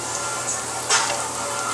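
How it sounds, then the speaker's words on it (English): Garlic sizzles steadily in a hot pan as it cooks toward light brown, with a brief louder crackle partway through; no one speaks. "We got it cooking right there. Just enough so the garlic turns a little brown."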